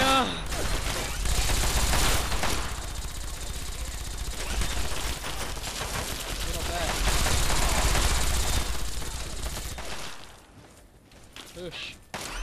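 Heavy battle gunfire in Fallout 3 at Paradise Falls, sustained loud volleys of rapid shots and machine-gun bursts for about ten seconds before tapering into scattered shots, with voices faintly underneath.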